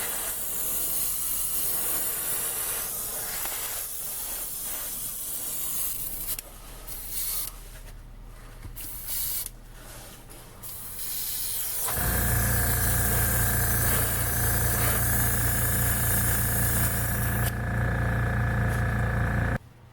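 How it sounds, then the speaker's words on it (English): An airbrush sprays paint onto a 1965 Dodge Coronet body, hissing in irregular bursts at first, then settling into a louder, steady spray with compressor drone before cutting off near the end. "Purposely staying well away because this airbrush is acting weird"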